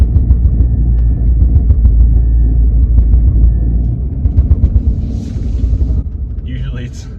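A Land Rover Freelander with a suspected U-joint or prop shaft fault rumbles and drones with its steering wheel on full lock, a steady low engine and drivetrain noise with light knocking, and a voice speaks briefly over it.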